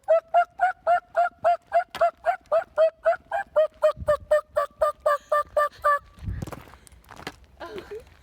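A rapid series of about twenty evenly spaced, honking calls from a turkey call or voice imitating a turkey gobble, loud and close along a woodland trail, followed by brief rustling and handling noise.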